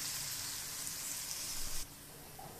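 Marinated chicken pieces fry in hot oil for a chicken and potato curry, a loud close hissing sizzle that drops suddenly to a quieter, softer sizzle partway through, with no speech.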